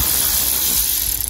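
A ratchet undoes the 10 mm bolts holding the air box on a Mk6 Ford Fiesta 1.4 Ghia during a service. Close, loud, rapid clicking runs through the whole short burst.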